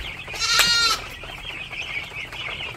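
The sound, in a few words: goats bleating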